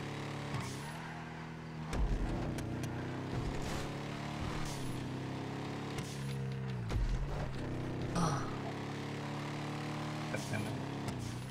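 A Willard Faction muscle car with hydraulics in GTA V hums along with a steady, low engine drone and a few shifting pitch sweeps, with occasional louder bumps and talk over it.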